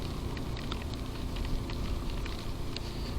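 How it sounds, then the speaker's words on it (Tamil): Heavy rain hisses in a steady, dense wash during a motorbike ride on a valley road near Pune, with faint patters and ticks over a continuous low roar and no talking. "ஸோ மழை நல்லா பெய்யுது."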